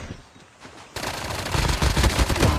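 Automatic gunfire in Call of Duty Mobile starts abruptly after a quiet opening, a loud rapid burst of shots that keeps going and grows heavier through the rest of the clip, with no speech.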